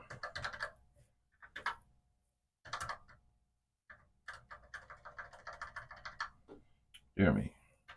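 Keys clacking on a Commodore PET 2001 with its chiclet keyboard, irregular bursts of typing broken by short pauses, close and moderately loud, ending in a sharper thump.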